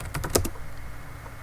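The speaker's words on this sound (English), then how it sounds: "Let's type the administrator account password here" Keys clatter on a computer keyboard as an administrator account password is typed in, a short quick burst of close taps in the first half second followed by quiet room tone.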